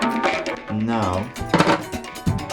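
Celery sticks sliced with a knife: a few sharp, close chopping strikes that come in short bursts between stretches of someone talking.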